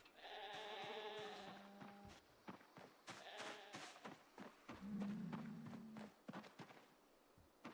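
Sheep bleat in a survival video game, one long call near the start and another midway, with light footsteps and small clicks between and after.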